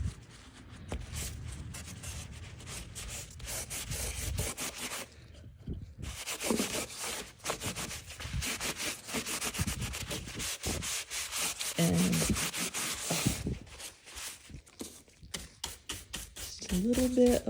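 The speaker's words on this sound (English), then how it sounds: "A little bit of the brushing just to make sure that I don't have a glump of the dark wax or the light wax, either one, stuck in one of those crevices." A brush scrubs dark and light wax into the crevices of a decoupaged gold-painted frame, giving a steady close scratchy rubbing that runs almost continuously with brief pauses.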